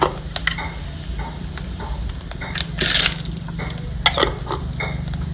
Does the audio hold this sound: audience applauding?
no